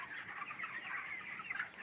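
Chickens and roosters cluck in a poultry shed, a dense, continuous chorus of overlapping birds at moderate distance, fairly quiet, with no talking.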